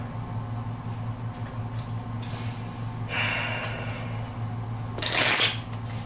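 Playing cards from a tabletop board game are shuffled into a deck, with two short bursts of riffling and sliding cards heard close up over a steady background hum.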